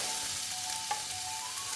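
Cooked pumpkin hits hot oil with curry leaves in a pan for Kerala mathanga thoran, a close, steady crackling sizzle with brief stirring clicks and no talk.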